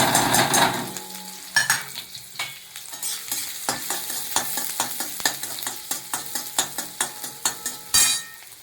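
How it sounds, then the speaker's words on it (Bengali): Panch phoron spices sizzle and crackle in hot oil alongside frying onions, with a steady hiss broken by a rhythmic run of spatula scrapes and stirring clacks against the pan. "এবার আমি পাঁচ ফোড়নটা অ্যাড করলাম"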